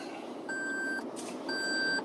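Two evenly spaced electronic warning beeps, each about half a second long, sound from a Toyota Land Cruiser Heritage Edition over a low, quiet engine idle.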